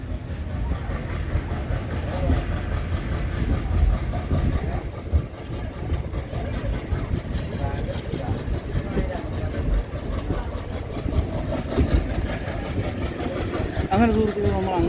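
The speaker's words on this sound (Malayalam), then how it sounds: "അപ്പോൾ സുഹൃത്തുക്കളെ, അങ്ങാടിപ്പുറം സ്റ്റേഷനിൽ നിന്ന് ട്രെയിൻ പുറപ്പെട്ടിരിക്കുകയാണ്." A passenger train pulls out of Angadippuram station on the Shoranur–Nilambur line with a continuous heavy rumble of engine and wheels, steady and close for the whole stretch.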